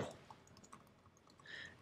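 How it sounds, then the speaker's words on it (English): Quick, soft keystrokes on a computer keyboard while entering a git commit message, a short run of faint clicks with no talking. "let me go back to just typing initial commit here really quick"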